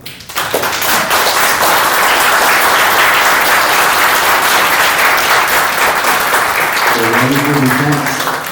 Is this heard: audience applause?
yes